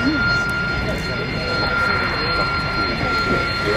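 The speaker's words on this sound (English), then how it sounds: "Eurofighter Typhoon touching down." A Eurofighter Typhoon jet touches down at an airshow, its engine a loud, steady roar with a high whine filling the whole stretch.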